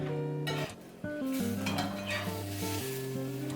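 French toast sizzling in a frying pan as a spatula scrapes and flips it, a steady close hiss broken by a brief dip, then metallic pan clinks over humming tones.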